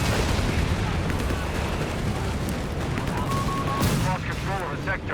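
Artillery shells booming and crumping during a Company of Heroes 3 battle, with repeated heavy blasts and scattered gunfire running throughout, loud and continuous, with a voice talking over the barrage.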